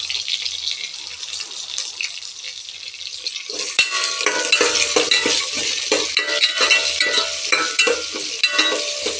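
Onions, green chillies and curry leaves sauté in a pan over browned fenugreek seeds, a steady close sizzle that swells when stirring begins, with repeated scraping strokes and light metallic clinks.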